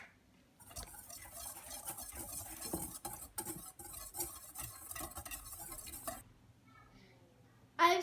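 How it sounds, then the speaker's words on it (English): Flour, cocoa powder, baking soda and salt are whisked together in a bowl, producing soft, rapid scratchy taps and patter close by for several seconds before fading to quiet. "Now we're going to mix our flour, our cocoa powder, our baking soda, and our salt"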